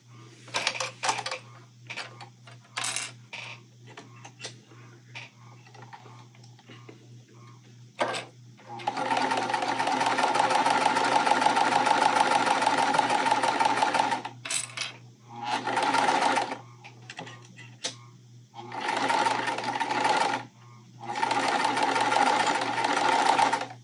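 A sewing machine stitches a quilt seam in several runs of steady, rapid mechanical whirring, separated by pauses filled with clicks and handling of fabric, while a low constant hum persists underneath.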